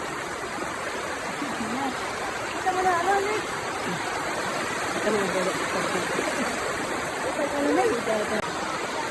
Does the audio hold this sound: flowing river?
yes